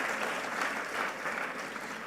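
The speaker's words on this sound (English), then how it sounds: "Please give a huge round of applause." Steady, dense applause from an audience fills the room after a medical oration, sustained evenly throughout.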